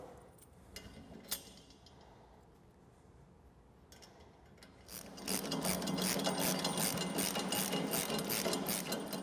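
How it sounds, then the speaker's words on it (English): A ratchet wrench tightens 13mm nuts with washers on a UTV snow plow mounting plate, first a few isolated clicks, then a loud continuous run of fast ratcheting clicks up close. "We're going to go ahead and put washers and 13mm nuts on each one."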